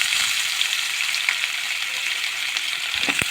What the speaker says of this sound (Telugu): వేయించుకున్నాక ఉల్లిపాయ వేయాలి.